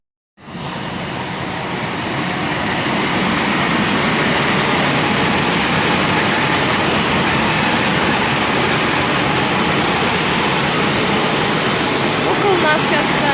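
A train pulls into a station on a dark winter evening, its broad, steady rumble and rolling noise filling the scene loudly from start to finish, with no clear braking squeal or final stop.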